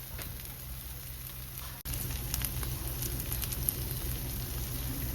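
Syrniki, Ukrainian cottage cheese pancakes, frying in a pan under a lid, a steady soft crackling sizzle with faint pops, briefly interrupted by a small click.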